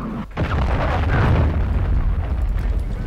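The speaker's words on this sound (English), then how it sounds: "Hostile cruise missile incoming" A cruise missile strike in Modern Warfare 2 lands as one loud, sustained explosion whose deep rumble rolls on for about three seconds.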